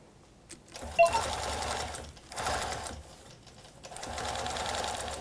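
A longarm quilting machine runs in several steady bursts of rapid mechanical stitching around the edge of a quilt, with short pauses between runs and no voice.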